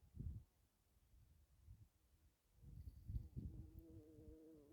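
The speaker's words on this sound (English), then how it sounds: "2 bumblebees!" Two bumblebees buzz close by outdoors, a faint low drone that swells and fades as they move around, rising to a steadier hum near the end.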